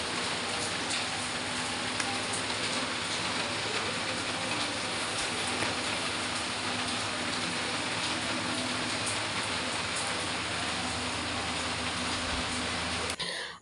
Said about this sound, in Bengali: তো দেখো বৃষ্টির আওয়াজটা কত